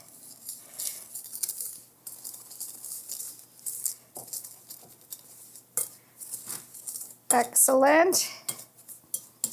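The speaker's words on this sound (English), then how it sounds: "To that, we are adding a 1/2 cup of white sugar. And we are going to give this a whisk." Olive oil and white sugar whisked in a bowl, with quick rattling taps of a whisk against the bowl's sides in short bursts, close by and fairly faint, and a voice briefly speaking near the end.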